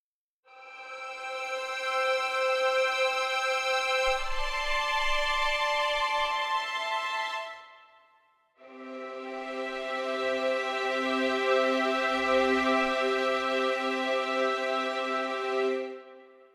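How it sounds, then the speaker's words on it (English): Two long sustained chords from a full string ensemble playing at double forte, each swelling in and holding for several seconds before fading, with no talking. "Now it's set to double forte, which is the highest dynamic"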